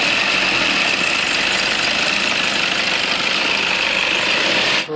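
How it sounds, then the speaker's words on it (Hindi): Toyota Innova engine idles after warming up, a loud steady rumble with a mechanical whine and faint knocking noise heard close up, constant until it cuts off abruptly near the end. "गर्म होने के बाद इंजन से एक नॉइज़ आता है।"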